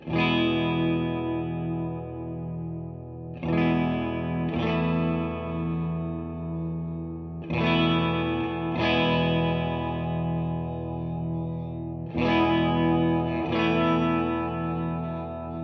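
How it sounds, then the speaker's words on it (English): Electric guitar played through the spring reverb of a Keeley Caverns V2 pedal with its tremolo engaged; repeated strummed chords pulse and shimmer, with sustained, wavering tails between strikes. "There's a spring reverb, and this one's pretty interesting. It's actually got a tremolo with it."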